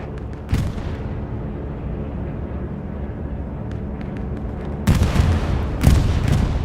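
A bombing run hits Utah Beach in Hell Let Loose: a steady rumbling battle din gives way to two heavy, close explosions near the end, with no voices.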